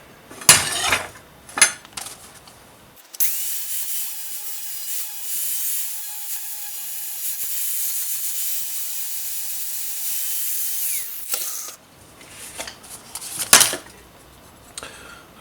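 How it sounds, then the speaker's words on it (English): An angle grinder fitted with a 60 grit flap disc grinds a slight radius onto the tip of a forged steel slitting chisel, a loud steady high whine lasting about eight seconds, set between shorter bursts of clattering metal. "Just a 60 grit flap disc on the angle grinder."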